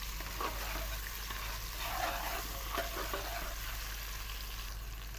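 Onion with ginger-garlic paste frying in a pan for dal tadka, a steady, close sizzle that holds evenly throughout with faint stirring scrapes underneath.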